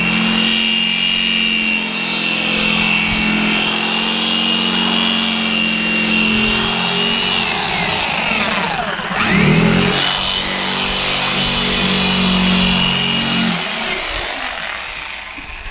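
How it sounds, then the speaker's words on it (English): Steady, continuous sawing of PVC pipe hums along with a grinding, motor-like drone, briefly swelling midway before trailing off near the end. "We're gonna cut some PVC in half, glue it in there"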